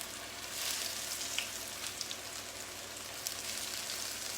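Breaded ravioli frying in oil in a hot skillet, a steady close sizzle with fine crackling pops throughout.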